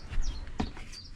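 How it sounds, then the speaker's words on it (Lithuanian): Sparrows chirp on a morning near the sea at Holyhead, a few short faint calls over a soft outdoor background with no talking. "Jau žvirbliai čirška."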